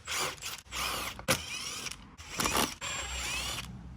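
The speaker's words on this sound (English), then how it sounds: "we need to take that screw out" Screws being undone from a panel on a Honda PCX125 scooter, with close, clicking ratchet and creaking mechanical turns in uneven bursts, heard alone without talk.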